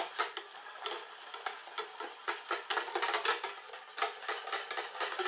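Milk and caramel mixed in a pan with a whisk or utensil, rapid rhythmic metallic clinks and scrapes against the pan, close and steady with no talking.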